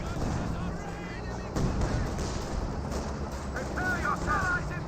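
Panzerwerfer rocket artillery striking a T-34/76 in the real-time strategy game Company of Heroes 2, with rumbling explosions and scattered gunfire in a dense battle mix, a sharp impact partway through, under a voice talking.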